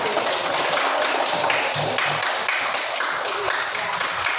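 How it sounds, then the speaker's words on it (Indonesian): A classroom group gets a round of clapping from students, steady and dense for several seconds, close and fairly loud with no talk over it. "beri tepuk tangan kepada kelompok 1"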